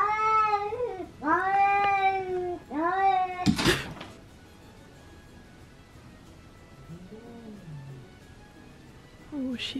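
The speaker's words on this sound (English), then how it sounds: "Are these even cat noises?" A cat yowls and meows loudly in long, drawn-out wails, three close calls followed by a sharp noise, then a fainter distant yowl and a final cry.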